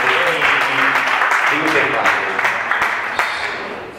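A church congregation applauds the Lord, a loud continuous roll of clapping with voices and shouts mixed through it, fading slightly near the end.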